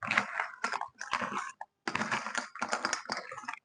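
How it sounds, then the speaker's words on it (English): Cereal tossed with melted coating for muddy buddies gives close, crisp crunching and rustling in several separate bursts with short pauses between them, and no one speaks. "Just going to mix this all up just like this."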